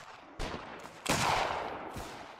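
Rifle gunfire in the Anglo Zulu War: Reloaded video game, with several sharp shots cracking out at irregular moments, one especially loud burst near the middle, over a steady background of battle noise.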